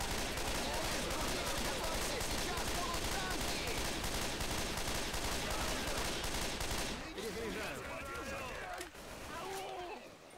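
Dense, sustained gunfire in the video game Left 4 Dead 2 roars for several seconds, then gives way to scattered shots as voices call out over the fading din.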